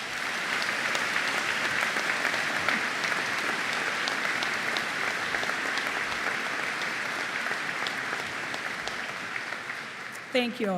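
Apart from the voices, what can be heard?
graduation audience applause for scholarship sponsors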